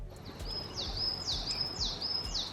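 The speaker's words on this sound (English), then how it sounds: "Birds are singing. Can you hear it?" A small bird sings a repeated high, sweeping whistle about four times, clear and fairly close over a low outdoor rumble, in a Swiss countryside village.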